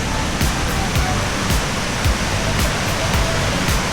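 A steady, dense roar of a waterfall rushes continuously, loud and close, with no pauses.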